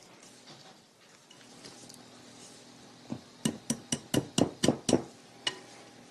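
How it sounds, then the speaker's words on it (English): A whisk folding flour into a stiff batter in a bowl: a quiet stretch of faint stirring, then a quick series of about eight sharp clinks of the whisk against the bowl, close by. "I'm going to fold the flour in, but with the whisk."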